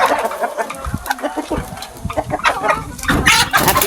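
Hens cluck and chatter close by in a busy, overlapping flock, with scuffling and rustling throughout and growing louder toward the end.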